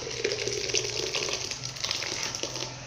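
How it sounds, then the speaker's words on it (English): Tiger nut drink is poured through a cloth sieve, with a steady close trickling and splashing of liquid running without pause, no talking. "So I have to double it and then place it on my sieve and then turn it into it."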